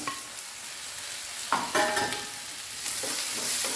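Stirring and frying in a pan on high flame while making a green peas curry, with a steady background sizzle, a few scraping stirs of the spoon against the pan, and no talking.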